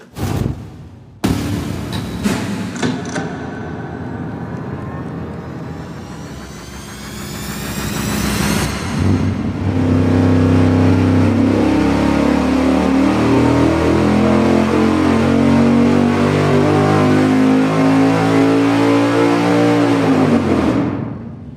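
A V8 engine on a dyno baseline run idles briefly, then revs up in one long, loud, rising pull for about ten seconds before cutting off, close and alone.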